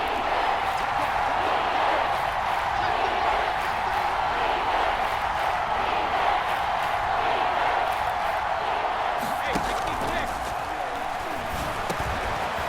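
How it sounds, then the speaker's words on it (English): Steady, dense crowd roar in a Madden NFL 22 football stadium, a continuous loud wash of cheering and noise with occasional voices of commentators underneath. "One of the bigger plays in the game thus far, and the crowd getting into it as we come up on a big third down"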